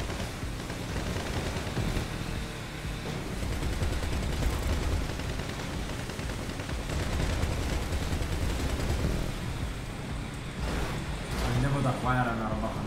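Rapid gunfire aimed at tanks in a GTA video game, dense bursts running continuously for the whole stretch at steady loudness, with someone talking briefly over it.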